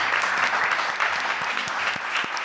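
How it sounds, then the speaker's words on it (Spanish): Audience at a live folk music show applauding, a continuous close wash of clapping with a few scattered louder claps, sustained for the whole moment. "Ahora nos damos un aplauso todos y todas los que estamos acá."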